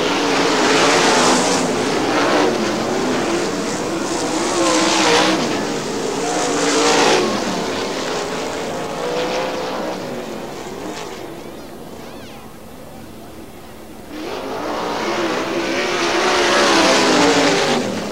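410 sprint cars race at Butler Motor Speedway in Quincy, engines roaring loud and close in continuous surges that dip and build again as the pack passes, with no talk over them.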